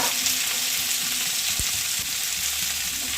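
Grated coconut fries in a pan with chopped onion, green chili and beans, a loud, steady close sizzle throughout with a soft thud from the pan.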